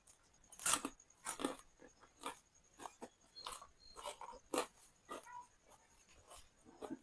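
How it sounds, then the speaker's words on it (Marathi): Crisp fried kothimbir vadi, a coriander fritter made with rice flour, is bitten and chewed close up: a series of sharp, crunchy bursts in a quiet room, with no talking. "एकदम मस्त असा कुरकुरीत आवाज आपल्या वडीचा येतोय"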